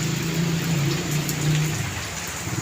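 Heavy rain falls steadily during a typhoon, a dense continuous hiss with low rumbling wind, lasting throughout without speech.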